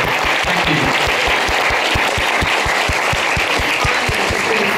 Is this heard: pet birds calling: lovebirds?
no